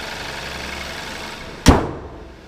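A 2015 Hyundai Elantra GT hatchback's 2.0-liter four-cylinder idles with a low, smooth, steady hum, then a single sharp slam cuts in and fades near the end.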